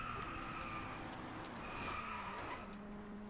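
Tires screech and skid in a sustained drift in the racing game Driveclub, with a steady engine drone underneath, continuous and fairly loud for the whole stretch.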